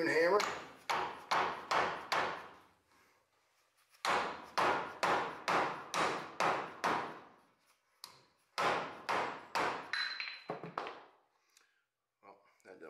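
Repeated sharp hammer blows on a hot rod's wheel bearing work ring out in quick bursts of several strikes, pausing between rounds, with a metallic, bright ring on each hit.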